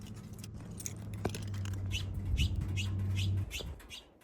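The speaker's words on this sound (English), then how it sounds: "Mexican jay, finally." A Mexican jay calls in the Big Bend mountains: a run of about eight raspy, evenly spaced calls at moderate distance over a steady low hum and faint background noise.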